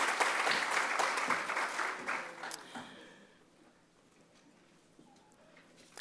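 An audience at a university college honors day ceremony applauds award recipients, a full round of clapping that fades out after about three seconds into a quiet room.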